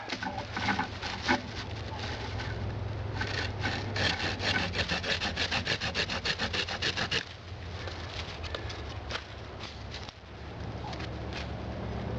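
A wooden stick cut for a spring snare trap: close, steady rhythmic rasping saw strokes for several seconds, then a slightly quieter stretch of continued scraping.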